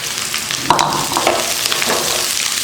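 Green beans hit a pan of fried mustard seeds, urad dal, curry leaves, onion and green chili, a loud close sizzle with clattering stir strokes and scrapes, no voices.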